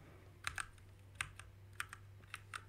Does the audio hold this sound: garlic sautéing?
no